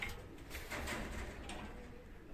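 Pigeons kept in a loft coo softly and continuously, with a steady low murmur of birds close by and no talking.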